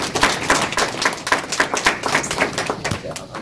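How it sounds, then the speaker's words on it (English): Classroom group at a Saturday training session clapping for teammates, a dense, uneven round of hand claps throughout, fairly close and steady, with scattered voices mixed in. "Round of applause for these guys."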